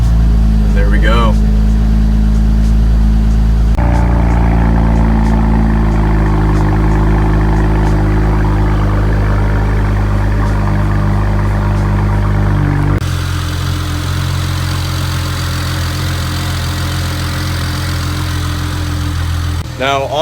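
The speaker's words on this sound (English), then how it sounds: "I love hearing the N54 exhaust. It's just got such an awesome idle and sound to it." A BMW N54 engine settles into a steady, deep idle after a cold start, rumbling loud and close with a slight shift in tone partway through.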